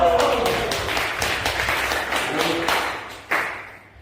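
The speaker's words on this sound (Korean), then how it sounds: "우와, 박수!" Applause from a healing mission camp crowd rings out, a dense wash of clapping with a few voices at first, then it thins, one last clap sounds, and it fades to near silence.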